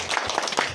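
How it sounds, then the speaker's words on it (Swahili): Schoolchildren clap together in a short burst of applause, close and fairly loud, with faint voices mixed in. "Makofi kwa wingi,"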